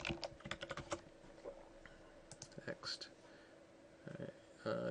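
Someone types a password on a computer keyboard. Quick, light runs of keystrokes tap close by with short pauses between them, under faint soft murmuring.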